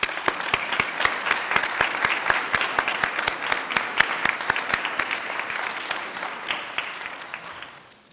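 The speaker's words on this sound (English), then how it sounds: "How about a round of applause for that?" An audience at a city hall unveiling ceremony applauds steadily with dense, close clapping for several seconds, then gradually tapers off toward the end.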